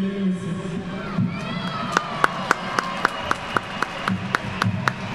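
Sports fans in an arena clapping and cheering after a marriage proposal, a crowd roar with shouting voices and a string of sharp, regularly spaced claps ringing out over the noise.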